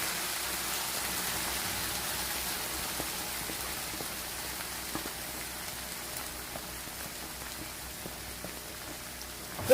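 Coconut milk mixture cooking in a pan over a low flame while being stirred constantly, giving a steady soft bubbling and hiss with faint scraping ticks, with no talk.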